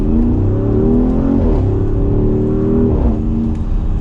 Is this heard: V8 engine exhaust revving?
yes